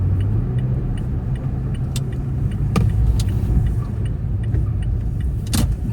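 Inside a moving truck on the road: a steady low engine and road rumble fills the cab, with scattered light rattles and jingles on top and no voices.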